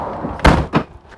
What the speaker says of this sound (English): And then I'm gonna pull this door closed.